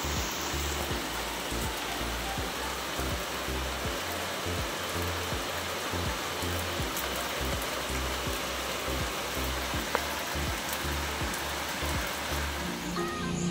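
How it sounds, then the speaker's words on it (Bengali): Steady rain that has been falling since the day before, a constant even hiss of water with a faint repeating low thump beneath, moderately quiet and unbroken, no voices. "কাল থেকে বৃষ্টিটা ভালোই হচ্ছে কিন্তু।"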